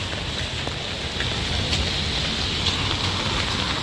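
Steady rain pours onto a street during a stormy day, a dense, even hiss that holds loud and unbroken throughout with no voices.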